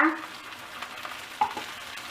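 Bean sprouts stir-fry in a hot pan beside the batter for a crispy fried mussel pancake. A soft, steady sizzle is broken by a few light scraping clicks, with no talk.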